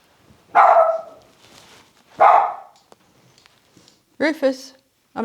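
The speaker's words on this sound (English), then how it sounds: "Dog bark," A dog barks twice nearby in an indoor room, loud short barks spaced apart, followed by a brief voice.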